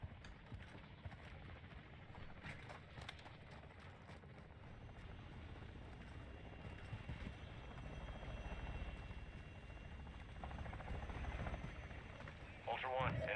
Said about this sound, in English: Be advised, the enemy attack helo is approaching your location.